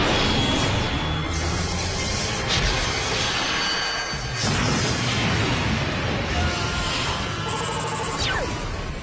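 Video game battle sequence in which a catapult cannon is destroyed, filled with dense booming explosions, crashes and whooshes layered over a continuous loud rumble, with a sharp blast near the middle and a bright tonal effect toward the end.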